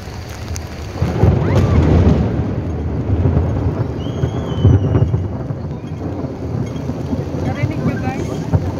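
Thunder rumbling through a sudden rainstorm in the Whampoa area of Hong Kong, with steady rain and low booming rolls filling the whole clip; people talk nearby over the storm.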